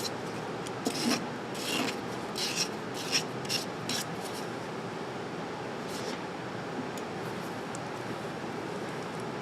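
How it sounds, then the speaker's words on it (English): Steady rasping strokes of a file and emery paper working a metal brooch pin stem, a continuous close scratchy texture with brief brighter bursts in the first few seconds, no talking. "as you are emerying and filing"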